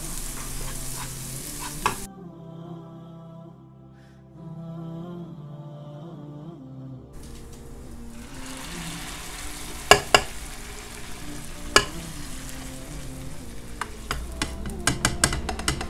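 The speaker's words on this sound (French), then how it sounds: "je rajoute une petite pointe de beurre pour que l'ail soit un peu plus fondant. Et je continue de le faire dorer" Garlic frying in butter in a Cookeo multicooker while preparing Egyptian dishes: a steady close sizzle with stirring. It drops to a quiet hum for several seconds, then returns with scraping and sharp clicks from a utensil.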